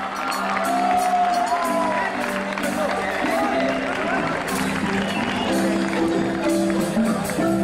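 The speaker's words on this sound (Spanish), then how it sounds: "brindamos fuertes aplausos para los alumnos del Colegio Imperial" A school civic-event audience applauds students from a colloquium, a dense wash of clapping and crowd noise held at an even level, with voices mixed in.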